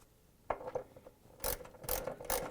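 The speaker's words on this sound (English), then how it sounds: "And I use the 10mm socket wrench" A 10mm socket wrench tightens a bolt on a Samsung washer during a tub seal repair, giving several short ratcheting clicks in bursts, close and fairly quiet with no talking.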